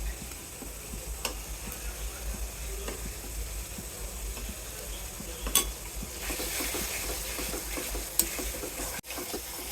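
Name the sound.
frying ginger-garlic paste and spices in a pan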